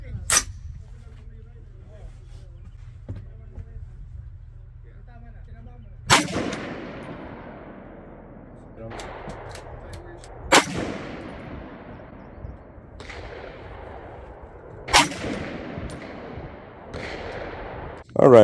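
Shots from a .308 Winchester rifle loaded with 165-grain North Fork semi-spitzer bullets at an outdoor range: four sharp, loud cracks spaced a few seconds apart, each followed by a short ringing decay, over a low steady hum.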